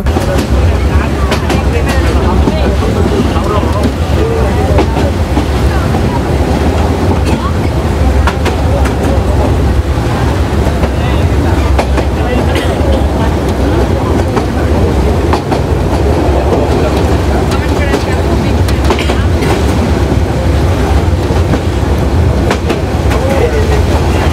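A passenger train runs on rails during an overnight journey, heard from inside the carriage as a loud, continuous rumble and rattle with faint rhythmic clatter of wheels over the track.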